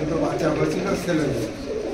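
An active breeding pair of pigeons coos close by in a low, throaty murmur, with talking mixed in.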